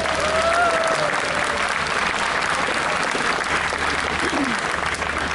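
Sustained applause from a crowd at an outdoor show jumping event, honouring a Harmonie wind band on a Sunday evening in Sevenum; steady dense clapping throughout, with a brief voice or whistle-like tone early on.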